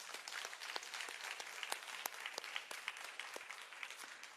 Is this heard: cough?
no